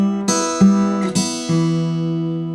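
Delta blues guitar phrase picked one note at a time on the lower strings, a few plucked bass notes ringing out and decaying, played alone with no talking.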